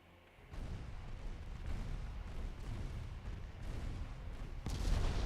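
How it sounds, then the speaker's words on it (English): A torpedo strikes a ship in the naval game Ultimate Admiral Dreadnoughts, a muffled low boom rising out of quiet and rolling on as a dull rumble, with a heavier thud near the end. "Ooh, that was a hit. That was a bad hit."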